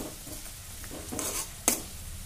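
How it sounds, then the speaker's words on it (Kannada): Raw ginger garlic paste dropped into chillies frying in oil for a North Karnataka chutney, a faint brief sizzle with stirring scrapes and one sharp spatter burst. "ಮತ್ತು ಹಸಿ ಶುಂಠಿ ಬೆಳ್ಳುಳ್ಳಿ ಪೇಸ್ಟ್ ಹಾಕತ್ತೀನಿ."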